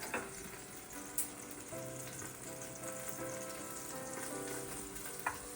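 Coconut cream sizzles and crackles in a hot pan for a massaman beef curry, a steady close frying hiss with a couple of sharp clicks and no voices.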